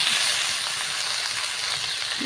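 Chopped vegetables hiss and crackle in hot oil in a pan that previously held fried lentil dumplings, a steady close sizzle with no talking.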